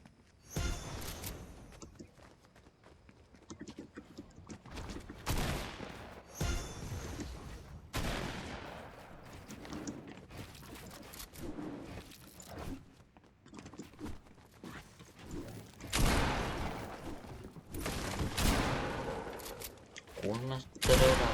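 Gunfire in the video game Fortnite, repeated bursts and sharp volleys of shots at irregular intervals, some louder and closer than others, with a voice talking in between.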